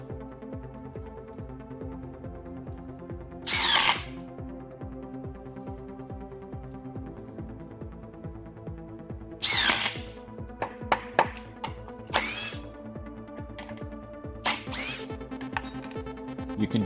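A Makita XDT13 impact driver runs in short bursts, its rapid hammering rattle rising loud several times between quieter pauses, with steady background noise between the bursts.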